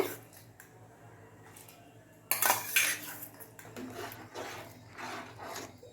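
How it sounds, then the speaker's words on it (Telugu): Rice, sago and chana dal are stirred into boiling milk in a pot for sweet pongal, giving close metallic scraping and clinking of a spoon against the pot, with a louder burst of splashing scrapes midway. "వేసి ఇలా తిప్పుతూ మనము ఉడికించుకోవాలండి"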